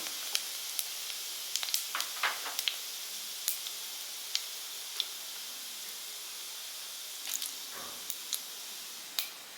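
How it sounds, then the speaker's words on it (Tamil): Mustard, cumin and fennel seeds splutter in hot oil for a Tamil tempering, a soft constant sizzle broken by scattered sharp crackling pops, close and fairly quiet. "கடுகு நல்லா பொறிஞ்சிருச்சு"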